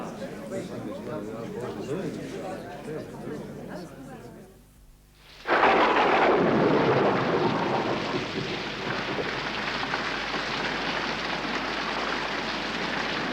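A heavy English downpour with thunder: muffled talk gives way to a brief hush, then a loud rolling thunderclap bursts in and settles into dense, steady rain that fills the rest of the scene.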